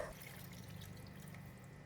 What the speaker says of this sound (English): Add in 200 ml of water.